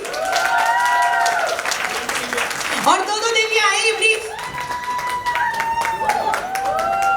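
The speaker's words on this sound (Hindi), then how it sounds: "इनके लिए तालियां तो बजाइए" Audience clapping at a sangeet ceremony, a steady burst of applause running under a voice speaking over a microphone.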